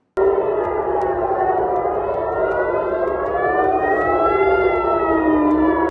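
Air raid warning siren in Israel during a missile attack, a loud, steady wailing tone that slowly rises and falls, sounding alone for several seconds before cutting off.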